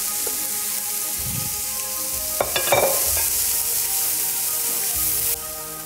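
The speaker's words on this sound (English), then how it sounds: "we're gonna add our onions and carrots. We're just gonna cook these down" Chopped onions and carrots sizzle steadily in a hot pan for shepherd's pie, with a wooden spoon scraping and stirring through them partway, loud and close with no talking.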